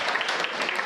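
An audience claps at a Hindi comic poetry gathering, a brief, dense burst of many hands clapping together, even and continuous throughout.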